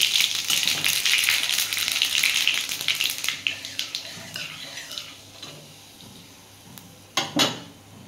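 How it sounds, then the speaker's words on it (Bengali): Bay leaf and white cumin dropped into hot oil left from frying pumpkin, a bright crackling sizzle with clinks of a metal pan and spoon, thinning out before a sharp late clatter. "ওই তেলের মধ্যে আমি একটু তেজপাতা আর একটু সাদা জিরে ফোড়ন দেবো।"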